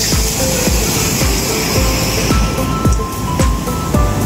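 Strong ocean waves at San Felipe, Zambales, break and wash onto the beach in a continuous loud surf roar with repeated rushing surges and no talk.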